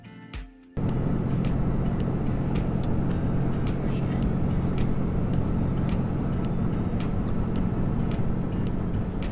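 A car cruises along a highway near Sturgis toward sunset, a steady cabin road rumble with a constant low engine drone that kicks in after a brief quiet start, with faint ticking bumps over the road.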